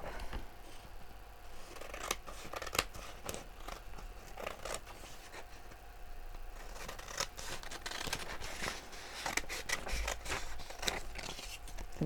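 Scissors trimming a paper page for an A4 page kit, a close series of crisp snips and cuts with rustling paper handling in between.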